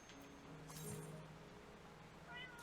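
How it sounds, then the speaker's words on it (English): A domestic house cat meows softly a few times, faint and somewhat distant against a steady background hiss with no talking. "Local cat says meow."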